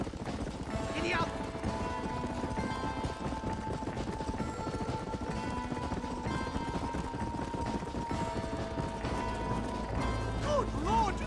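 Horse galloping in the video game Red Dead Redemption, a quiet continuous run of hoofbeats under game ambience and music, with a voice briefly heard near the end.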